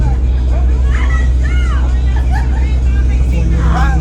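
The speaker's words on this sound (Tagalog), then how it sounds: "Tricycle yan." Motorized tricycle passing along a rural road near Sitio Dueg in Tarlac, a steady engine drone with road noise throughout, heard from close by while people shout and talk over it.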